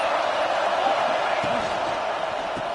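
Steady roar of a football stadium crowd during a game, a dense continuous wash of many voices with faint scattered shouts rising out of it.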